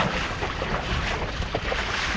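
Strong wind roars steadily outdoors near a mountain, a dense, unbroken buffeting rush with heavy low rumble against the microphone and no voices.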